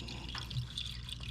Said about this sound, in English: We'll let that drain for a hot minute.